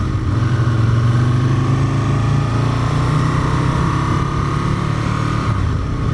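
An Aprilia RSV Mille R motorcycle ridden through urban Sheffield streets at low speed, its engine a steady, loud drone held close throughout with no talk.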